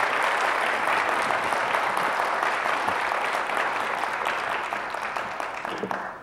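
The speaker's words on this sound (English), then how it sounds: "let's just start by giving our staff a big round of applause" Audience gives Redondo Beach city staff a big round of applause at the 2018 Mayor's State of the City, a full, sustained clapping from a large crowd that gradually thins and fades over several seconds.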